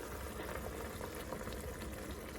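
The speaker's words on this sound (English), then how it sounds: "Let's pour this in and see how much we have." Liquid pours steadily into an Instant Pot for a pork roast, a continuous bubbling, splashing stream that stays even and close throughout with no talk.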